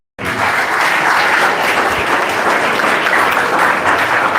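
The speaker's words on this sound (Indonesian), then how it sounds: "Kita beri tepuk tangan dulu." A congregation at a healing service in a ballroom in Langgur bursts into loud, dense, sustained applause that starts abruptly and carries on without a break.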